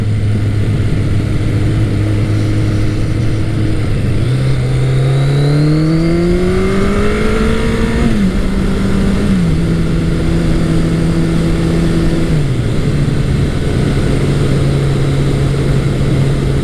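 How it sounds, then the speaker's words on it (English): A Kawasaki ZL900 Eliminator motorcycle engine revs up in rising, stepped pitches, holds high, then drops back to a steady idle-like drone. "The engine in this bike revs very, very quickly."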